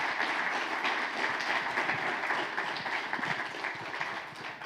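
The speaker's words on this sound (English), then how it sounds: "let's give Bogusław a warm round of applause" An audience at an agriculture forum in Poland applauds steadily, a dense continuous wash of clapping heard from within the hall, moderately loud and unbroken throughout.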